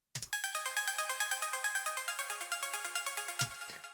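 The Waterhouse Pikes synth pluck preset in reFX Nexus, auto-panned, plays a fast bright arpeggiated run of evenly spaced plucks, framed by short percussive thumps at the start and near the end. Alone, with no speech.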